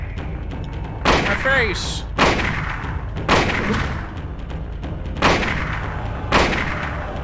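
Hunting rifle shots in the horror video game Silent Hill, six heavy booming blasts at roughly one-second intervals, each trailing off into a rumbling echo, with someone shouting briefly between shots.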